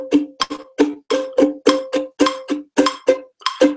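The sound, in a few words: ukulele strummed with thumb on upstroke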